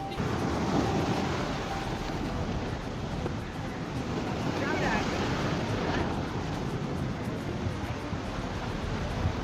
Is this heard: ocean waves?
yes